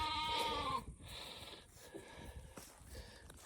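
A sheep being set up for shearing gives a loud, drawn-out bleat up close, followed by shorter, fainter wavering bleats and snorty breaths.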